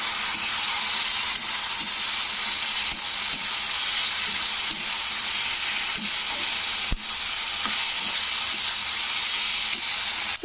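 Okra sautéing in a spicy gravy in a pan gives a loud, steady sizzle and hiss, with occasional soft clicks of stirring, heard on its own without voices.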